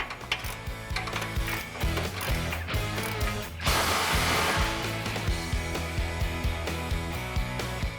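Ratchet tightening bolts on a Tremec TKX manual transmission during an LS swap into a C10 truck, steady close ratcheting clicks over a loud continuous droning hum that swells midway, with no talking.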